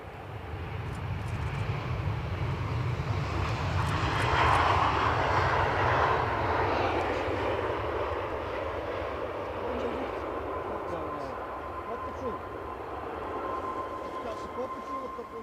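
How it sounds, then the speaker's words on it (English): A Sun Express airliner inbound from Antalya at Edinburgh Airport, a rumbling jet roar that swells to a peak midway and then eases off, with someone talking over it. "Sun Express, not in the special livery that I thought it would be, but inbound from Antalya."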